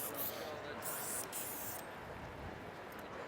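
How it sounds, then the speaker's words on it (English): Short hissing bursts of spray as a final sealer is misted over a Skin Illustrator base tone. The hiss is fairly faint and fades to quiet room noise after about two seconds. "So this is a little final seal that I spray over the first initial base tone"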